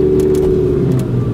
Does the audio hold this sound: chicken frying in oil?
no